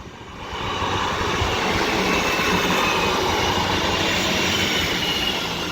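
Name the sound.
double East Midlands Railway class 158 train departing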